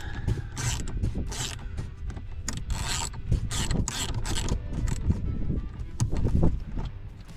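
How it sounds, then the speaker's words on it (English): A 10mm ratchet removing a bolt on a Jeep Wrangler while fitting a holster mount, with rapid clicking and clattering strokes in repeated bursts, close and moderately loud, with no talk. "We're going to take our 10mm ratchet"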